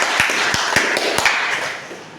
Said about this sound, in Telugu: గుడ్ క్లాప్స్ అండి.